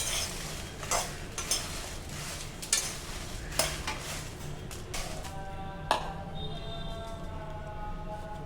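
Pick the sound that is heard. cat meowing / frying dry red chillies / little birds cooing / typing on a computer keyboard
frying dry red chillies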